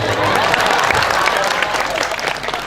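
An audience at an Islamic religious gathering (pengajian) in Gresik, Indonesia claps loudly and densely, a close, continuous burst of applause with some crowd murmur mixed in.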